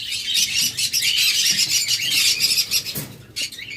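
High-quality lovebirds at a bird sale chirp and tweet rapidly and continuously, a dense, bright chatter of several birds close by, with a few sharper squawks.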